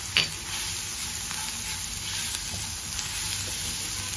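Onions sautéed with turmeric in a pan for eggplant bharta kababs give a steady close sizzle, with a spatula knock at the start and light stirring scrapes throughout. No one speaks.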